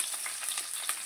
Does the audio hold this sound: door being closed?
no